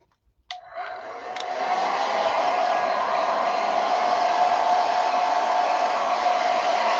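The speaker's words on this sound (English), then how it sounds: "And then we're going to take my hair dryer. I'm going to blow that." After a click, a hair dryer switches on and blows steadily with a constant whirring hiss, close and fairly loud.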